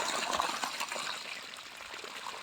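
Borewell water gushing out in a steady, unbroken stream, a dense close-up rush of liquid that holds at an even level throughout with no pauses.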